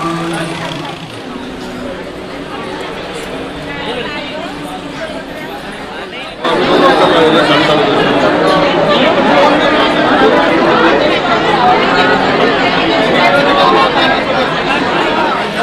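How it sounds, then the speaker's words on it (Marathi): A large crowd packed in at a temple in Ujjain, continuous chatter and babble of many voices that grows noticeably louder and denser halfway through, filling the space. "खूप गर्दी आहे"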